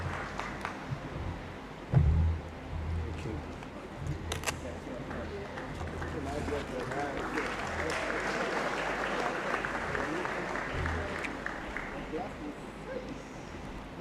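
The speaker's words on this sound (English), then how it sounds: "Let's keep clapping for Mr. Mensah." A large audience applauds at a university graduation congregation ceremony in a Great Hall, with broad clapping that swells and carries on, somewhat distant and moderate, mixed with crowd murmur and a few low thumps.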